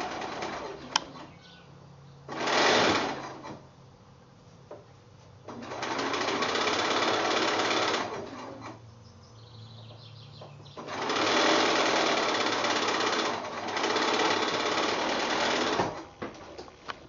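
A sewing machine stitches the roof piece onto a house block for a Kiwiana quilt. It runs in several bursts of steady whirring, a few seconds each, separated by quiet pauses.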